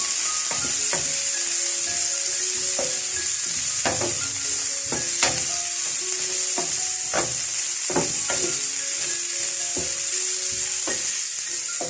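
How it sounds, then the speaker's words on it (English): Dark soy sauce is stirred into a sizzling pan, with a spoon knocking and scraping in irregular clicks over a constant loud frying hiss, and no voices. "I should put in some soy sauce. I know I had not told you guys, but some dark soy sauce. And give that a nice stir."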